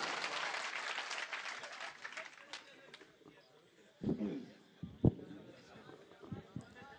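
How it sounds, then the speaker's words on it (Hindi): Loud audience applause at a Hindi poetry gathering (kavi sammelan) in Bheemgarh, 2017. Dense clapping fills the first three seconds, then thins out, with a few sharp thumps and a voice speaking over it. "एक बार जोरदार तालियां बजाइए।"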